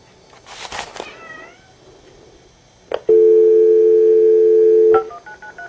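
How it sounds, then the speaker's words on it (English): A cat gives a short, fairly faint meow near the start, followed by a loud, steady telephone tone and then dialing beeps. "Get out of the way, kitty."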